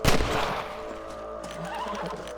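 A horse in the game Red Dead Redemption gives a short neigh that opens loud and close, then settles into a low mix of game ambience and faint hoof and outdoor sounds.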